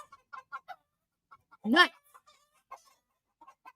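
Chickens give a few short clucks and one loud squawking call in the middle, close by and in a house setting, with a man's brief spoken word among them.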